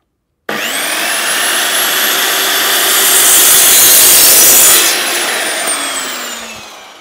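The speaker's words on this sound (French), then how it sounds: "il y aura les bruits de scie" A saw cuts wood during an indoor DIY build, producing one loud, continuous grinding whine that rises slightly, holds, then eases off before stopping, close to the microphone with no talking.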